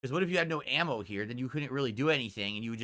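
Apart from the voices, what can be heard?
None of the usual background noises is heard.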